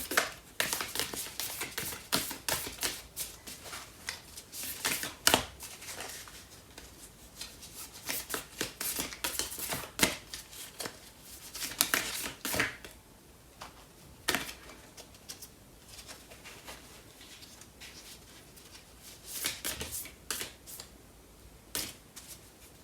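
Tarot cards being shuffled and drawn by hand during a reading, close-up papery riffles and flicks in irregular bursts with quiet pauses between them, no talking.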